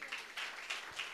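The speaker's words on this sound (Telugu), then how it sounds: "చప్పట్లు కొట్టి" A church congregation claps in rhythm during a Telugu sermon, several even, close hand-clap bursts forming a steady beat, with a hint of voice underneath.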